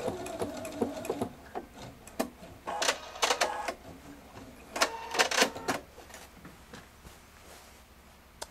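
A Pfaff Performance 5.0 sewing machine stitches a maxi stitch pattern. Its needle whirs in short bursts, with sharp mechanical clacks and pauses between runs, close and fairly quiet.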